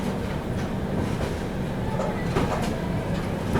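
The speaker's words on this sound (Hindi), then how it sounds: "चलिए दोस्तों अपनी ट्रेन पहुंच रही है जबलपुर रेलवे स्टेशन पे।" Patliputra Superfast Express (12141) rolling into Jabalpur railway station, a steady close rumble of rail wagons with rhythmic clickety-clack of wheels over track joints throughout.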